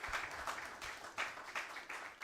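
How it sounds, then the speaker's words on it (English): A small gathering applauds the Luciano family, a soft, slightly distant patter of hand claps in uneven bursts. "let's give a big round of applause to the entire Luciano family"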